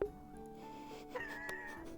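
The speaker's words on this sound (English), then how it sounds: "That's a cat." A cat in a role-play game town meows in a short, quiet, tonal call, with faint background sounds and no talk over it.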